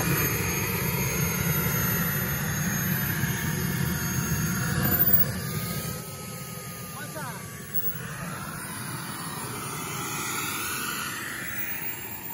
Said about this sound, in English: that was the flight of Tony. It's T28